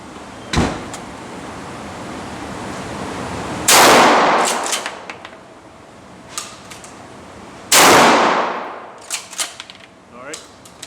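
A Benelli Supernova tactical shotgun fires 00 buckshot on an outdoor range, three loud blasts spaced apart, the first sharp and brief, the other two booming with long echoing tails and scattered clatter between them.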